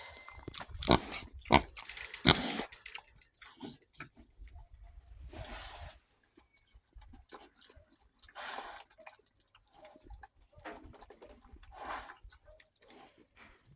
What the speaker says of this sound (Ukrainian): свині пищать, пішла свиням кашу давати